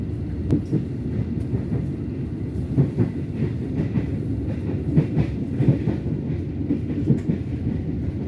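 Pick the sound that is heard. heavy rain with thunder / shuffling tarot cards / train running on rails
train running on rails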